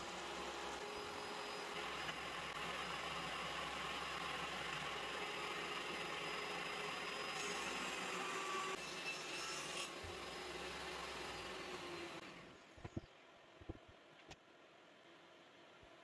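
Router with a quarter-inch bit cutting a groove along a wooden beam, a steady high whining cut with rasping wood noise for about twelve seconds, then the motor winds down and a few light knocks follow.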